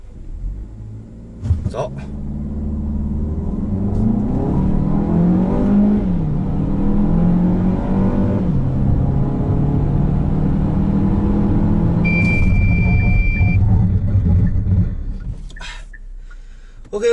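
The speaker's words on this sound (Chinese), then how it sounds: "Exceed 星途0-100公里加速热态部分下加速测试第六次，准备开始。" A 2019 Chery Exeed LX accelerates hard from 0 to 100 km/h in sport mode during a track test, its engine rumble building steadily through the gears for many seconds; a brief spoken word comes before the run.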